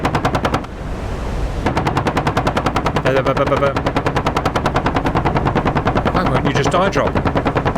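Rapid, sustained aircraft machine-gun fire from a naval battle video game, loud and close in a steady burst that pauses briefly before resuming, while players talk over it.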